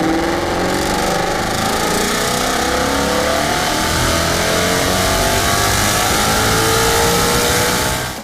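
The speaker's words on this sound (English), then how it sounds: "And that exhaust note, that is the way cars were meant to sound." Performance car accelerating hard, its exhaust note rising through the revs in a loud, continuous surge that stays close and strong for the full length, with no talking.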